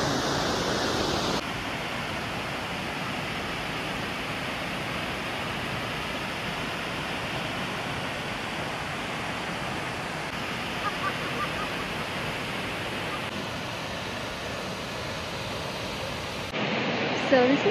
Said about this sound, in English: And here is Rainbow Falls.